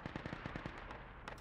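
Rapid automatic gunfire in the military shooter Project Reality, a quick run of faint distant shots ending in one louder close blast.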